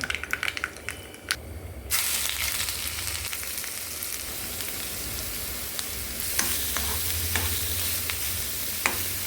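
Mustard seeds crackling in two spoons of hot sunflower oil in a pan, a quiet start giving way to a loud, dense, continuous sizzle with sharp pops scattered through it.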